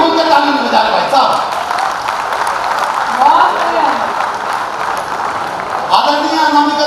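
An audience applauds at a Hindi comedy poetry stage show, a broad crowd clapping that swells and fades under a performer speaking into a microphone, with laughter-like bursts around the talk.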